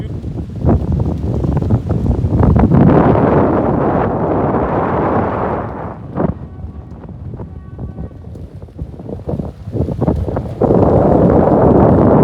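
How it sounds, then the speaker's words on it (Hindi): Cool pre-monsoon wind gusting outdoors in summer before a rainstorm, a loud, steady roar buffeting the microphone with brief lulls and a few clattering knocks, no one speaking. "बारिश होने से पहले जब ये ऐसे ठंडा ठंडा हवा चलता है"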